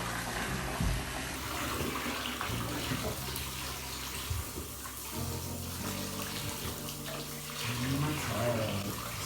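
Water runs steadily from a tap into a bathtub, a continuous rushing fill that stays even throughout, with a few faint clunks and someone briefly talking nearby.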